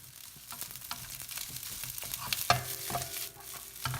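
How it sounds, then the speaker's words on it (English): Cold rice and egg are stirred in a frying pan for vegetable fried rice, with repeated scraping and clattering of the utensil over a light frying sizzle and a louder knock partway through. "And now just keep stirring it until the rice and the egg mix evenly."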